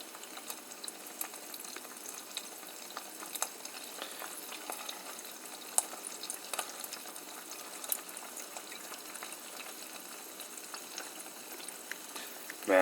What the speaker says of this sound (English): now it's sizzling